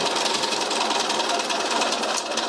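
A sewing machine runs continuously, stitching a pouch at an even pace with a rapid, steady mechanical whirr and clatter up close that slows slightly near the end.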